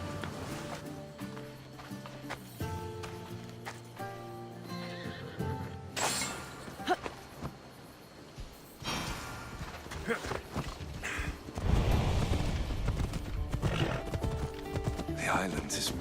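A horse in Assassin's Creed Odyssey whinnies loudly, then hooves clop into a steady gallop, with music and a voice talking underneath early on.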